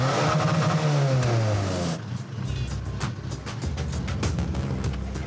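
A modified car on Réunion island revving and accelerating hard, a loud rising engine whine that drops off into rougher roaring and rattling, close and continuous.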